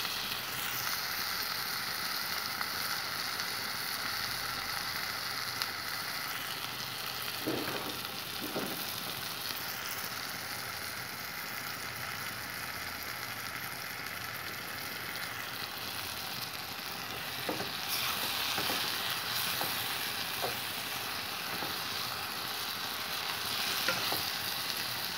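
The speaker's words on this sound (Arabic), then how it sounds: "نخلوها حتى تشحر لينا مزيان البصله" Sliced onions frying in a pan, a steady soft sizzle running throughout with occasional stirring clinks and scrapes, close and at an even moderate level with no talk.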